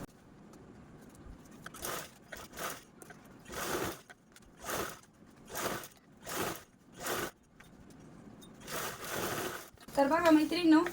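A sewing machine stitching a blouse cover runs in short, loud, close bursts of about a second each, separated by pauses, with someone speaking over and between the runs.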